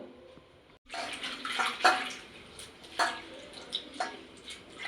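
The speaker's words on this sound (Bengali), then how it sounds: "আমি এবার উচ্ছে পাতাটা ধুয়ে নেব" Bitter gourd leaves being rinsed under a running tap, a steady splashing flow with a few sharper splashes as the leaves are handled, close and fairly quiet with no talk.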